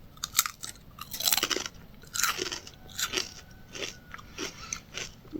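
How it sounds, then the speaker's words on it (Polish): Someone eating a crisp, chip-like Turkish snack, with close, loud, irregular crunches and bites in bursts over several seconds, and no talk. "Pokażę Wam, jak to fajnie chrupie."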